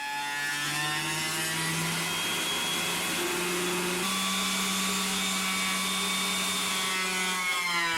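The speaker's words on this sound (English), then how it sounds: "the bow in this board as it gets stuck going through the thicknesser when it gets closer to the middle" Thicknesser planing a bowed wooden board for a ladder-style wine rack, a loud steady droning whine that changes pitch as the cutter load shifts, continuous and close throughout.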